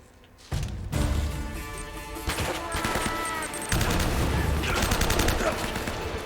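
Enemy gunfire in the video game Uncharted: Drake's Fortune: dense, sustained volleys of rapid shots and cracking impacts, loud and continuous across the whole stretch, with a few sharper bursts.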